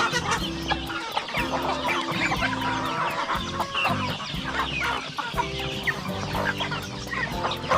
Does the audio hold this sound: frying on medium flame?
no